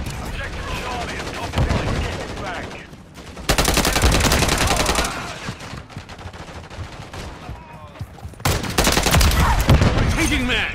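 Heavy automatic gunfire in Call of Duty: Modern Warfare 3 comes in loud, sustained volleys separated by quieter gaps, while players shout and talk over the action.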